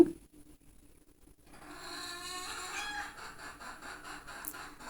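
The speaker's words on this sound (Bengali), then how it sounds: "ব্যাকগ্রাউন্ড মিউজিক হিসাবে আমার মুরগির ডাক শুনতে পারেন" Chickens cluck and a rooster crows in a village yard, quiet at first, then a steady chorus of fowl calls builds from about 1.5 seconds onward, loud and close with no talking.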